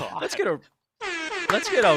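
Loud, blaring DJ air horn sound effect blasts in quick succession, with a brief silent gap before a longer buzzing honk.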